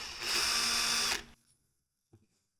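A power drill whines loudly as its bit bores into a jerry can for about a second, then winds down and stops; a single soft knock follows in the quiet.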